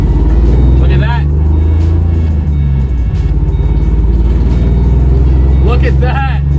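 Project car on its first test drive, its engine droning loud and steady from inside the cabin, with voices talking over it throughout.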